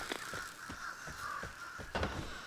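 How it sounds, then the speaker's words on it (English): Crows caw repeatedly in the video game Vigor, a series of rough, fairly distant calls spaced irregularly over a steady outdoor ambience, with one louder burst near the end. "But then I hear crows."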